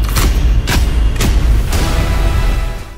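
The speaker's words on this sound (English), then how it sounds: "More explosions, more explosions." Explosions in The Division 2 video game trailer: four loud, deep booms in quick succession, each a sharp blast followed by a rumbling tail, over a continuous low roar.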